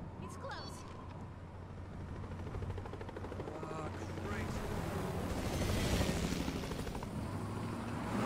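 Helicopter in the Resident Evil 6 video game, a steady loud rotor and engine roar that builds slightly throughout, with game sound effects layered on top.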